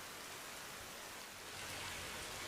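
Steady broadband rain falling in the ARMA military video game, a continuous hiss of drops with no voices, swelling slightly louder toward the end.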